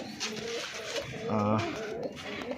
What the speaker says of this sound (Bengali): এই দুইটা আমার ঘরের কবুতর